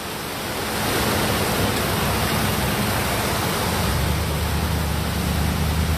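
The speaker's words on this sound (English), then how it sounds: "That's a full river." A full river rushes loudly and steadily nearby, a broad, continuous roar of water that swells in within the first second and then holds at an even level.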